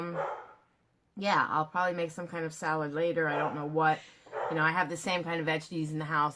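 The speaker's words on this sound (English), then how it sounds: "Sorry about the dog barking at the cat." A dog barking at a cat is heard only faintly under a person who talks nearly throughout, its yips mostly hidden behind the steady voice.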